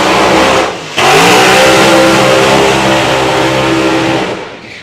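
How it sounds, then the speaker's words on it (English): Drag racing cars, the Apache and Freddie's Revenge, roar at very close range, engines blaring loudly with a brief dip near one second before a sustained full-throttle bellow that fades at the end. "Timmy Garlick with the Apache and Robbie Grabham with Freddie's revenge"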